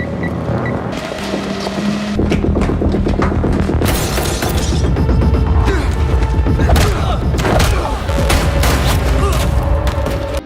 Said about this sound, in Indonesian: sehingga adu tembak pun terjadi